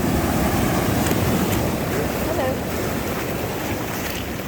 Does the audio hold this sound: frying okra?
no